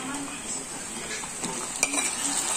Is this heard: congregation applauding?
no